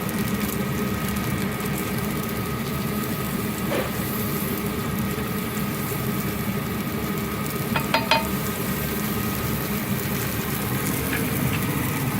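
Meatballs frying in a pan, a steady continuous sizzle with a low background hum and a few brief clinks, close and even throughout.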